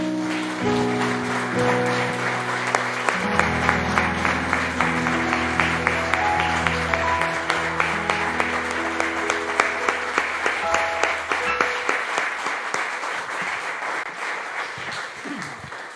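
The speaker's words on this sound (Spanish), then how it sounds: "Le damos un aplauso al Señor" A church congregation applauds during a worship service, a steady wash of clapping with sharper individual claps over sustained keyboard or organ chords that play throughout.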